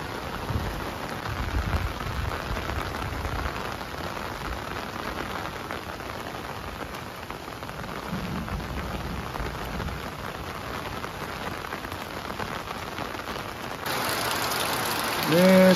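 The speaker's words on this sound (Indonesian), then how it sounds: "Ini suasana hujan sangat syahdu sekali ya" Heavy rain pours steadily over a mountain village, a dense continuous hiss of drops on surfaces with the downpour swelling louder near the end, with faint distant voices beneath.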